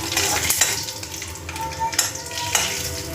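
Cumin, mustard seeds, curry leaves and coriander stirred in hot oil: a busy crackling sizzle with quick spatula scrapes and a few metallic taps on the pan, close and fairly loud, with no speech.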